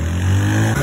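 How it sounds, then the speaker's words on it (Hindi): A motorbike engine starts and idles steadily on a sunny outing in Mirpur, Azad Kashmir, a loud close low rumble with a steady whine above it. "ये फिर हमने बाइक स्टार्ट की है"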